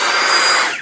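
A battery-powered Dewalt 20V leaf blower motor runs with a steady, loud, close-up whirring rush that holds even for under a second before tapering off at the end.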